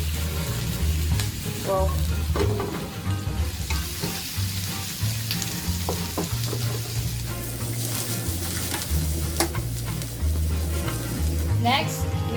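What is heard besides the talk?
stir frying spicy noodles in a pan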